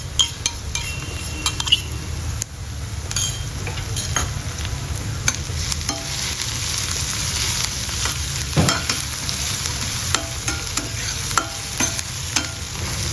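Onion and ginger-garlic paste fry in a pan for fried rice with a steady close sizzle, while a spoon repeatedly scrapes and clinks against the metal as it stirs. No one speaks.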